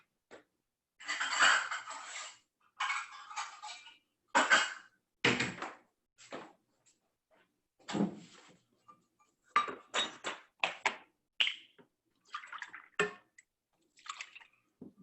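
Kitchen utensils and dishes clinking and clattering as a mixing utensil is fetched from a cupboard while making tomato soup, in short separate bursts of knocks and rattles with quiet gaps between.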